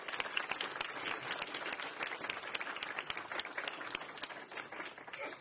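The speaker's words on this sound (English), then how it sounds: "Let's take a moment to thank our speakers again for the round of applause." Press conference attendees give the speakers a round of applause, a steady spread of clapping hands from a modest crowd that stays fairly even and faint throughout.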